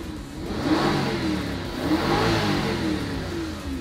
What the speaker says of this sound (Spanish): qué bonito el sonido atmosférico de este V8